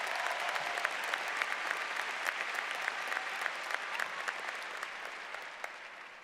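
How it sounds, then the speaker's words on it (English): An audience applauds at a Northern Arizona University graduation ceremony, producing a steady, dense wash of clapping with crisp individual claps standing out. It holds for the whole stretch and fades slightly toward the end. "I think that deserves a round of applause."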